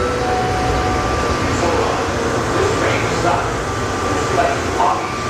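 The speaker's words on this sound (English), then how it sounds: "that was the plane train shuttle train" An automated plane-train shuttle at the Kansas City airport runs with a steady, enveloping rumble and airy hiss, heard from inside the car with a constant low drone throughout.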